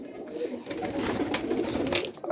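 Giribaj pigeons, including an old-bloodline male, coo in a soft continuous murmur nearby, with faint rustling and background noise and no clear talk.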